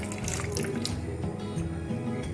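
Lemon juice poured into a large bowl of hung curd with garlic and ginger for a roti platter recipe, a steady trickle and dripping of liquid throughout, close and continuous with kitchen clatter.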